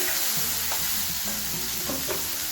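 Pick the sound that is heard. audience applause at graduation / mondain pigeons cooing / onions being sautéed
onions being sautéed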